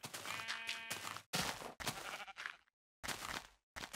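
Minecraft Pocket Edition sheep bleat several times in quick succession, close and clear, in short wavering calls separated by brief silences.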